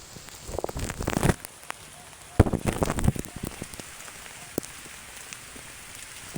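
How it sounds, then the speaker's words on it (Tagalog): Rain patters and splashes on a surface close by, louder in two bursts and then settling to a softer steady fall. "Ngayon, naliligo ako sa ulan."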